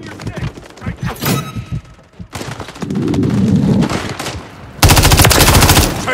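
Automatic rifle fire in Modern Warfare III on the Rust map: loud, close bursts of rapid shots, including a sustained heavy stretch near the end, mixed with thuds and shouted voices.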